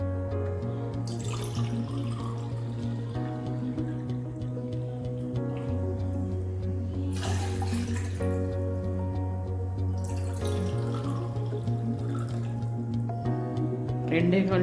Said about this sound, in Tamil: ரெண்டே 1/4 கப் தண்ணி விட்டுருக்குறேனுங்க.